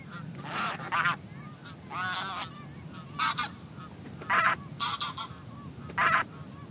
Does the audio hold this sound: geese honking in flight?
yes